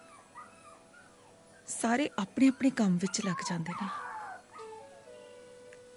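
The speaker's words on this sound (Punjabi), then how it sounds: "ਕਤੂਰੇ ਦੀ ਆਵਾਜ਼ ਹੋਰ ਤਿੱਖੀ ਹੋ ਗਈ।" A puppy whimpers and yips in high, thin whines, fairly faint and interspersed with a person speaking over a quiet background.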